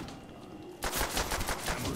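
Gunfire in Call of Duty World at War Zombies on the Shi No Numa map breaks out after a near-silent stretch as a rapid, loud burst of automatic shots.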